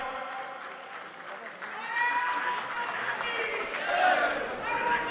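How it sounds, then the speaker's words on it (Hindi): Applause from the crowd at a political party gathering in Rajasthan, welcoming a women's wing vice-president, rising and swelling over several seconds with voices mixed into the clapping. "जोरदार तालियों से स्वागत।"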